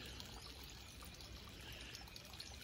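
Water from a rural spring flows in a faint, steady, even wash with no distinct splashes, continuing alone without voices.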